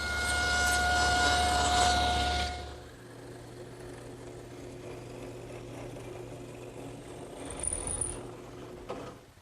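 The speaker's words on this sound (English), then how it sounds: "I want to chamfer the edges, and I'll do that at the table saw." A table saw chamfers the edges of a solid oak post, first a loud whining cut with a strong motor hum, then the blade spins down into a quieter steady drone with faint mechanical rattles, with no voices.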